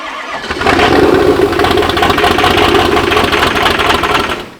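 A diesel truck engine cranks and catches, then runs at a loud, rough, rattling idle, close by and steady for several seconds.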